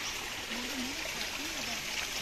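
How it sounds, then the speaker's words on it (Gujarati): A hillside spring stream runs down near a Mahadev temple, a soft continuous rushing wash of water heard steadily at low level, with a faint tonal murmur beneath. "ઉપર ડુંગરમાંથી પાણી આવે છે. ઝરણા ટાઈપ છે."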